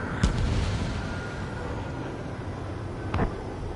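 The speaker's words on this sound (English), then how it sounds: "They're bombing us." Bombs burst during an air raid in the combat flight game Ace Combat 7: two sharp booming blasts, one near the start and one near the end, over a constant rumbling battle din.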